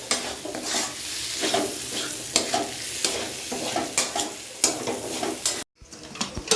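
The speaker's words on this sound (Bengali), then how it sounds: "দু থেকে 3 মিনিটের মতো নাড়াচাড়ার মধ্যে রাখতে হবে।" Ghugni ingredients fry in a pan while being stirred, producing an ongoing sizzle broken by repeated close scraping strokes of a utensil against the pan, a short silent break near the end, then more stirring.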